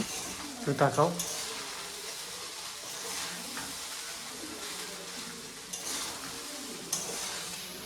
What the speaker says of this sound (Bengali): আমি রাইসটাও দিয়ে দিলাম দিয়ে একটু হালকা হাতে ভালো করে নাড়াচাড়া করে ভেজে নেব